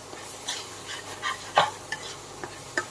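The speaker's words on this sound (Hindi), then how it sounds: "अब मसाला भूनते हुए लगभग मुझे 5 मिनट से ज़्यादा हो चुके हैं" Mustard masala being stir-fried in oil for a pumpkin-leaf curry, a low sizzle broken by several sharp spoon scrapes and clicks against the pan, spaced irregularly.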